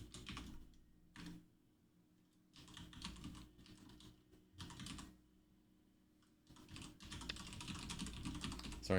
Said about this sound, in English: Sorry for the typing sounds.